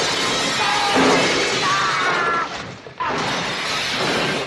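Loud, dense smashing and shattering from a fight scene in the James Bond film Moonraker: continuous crashing glass and breaking debris that dips briefly into a muffled thud before the clatter resumes.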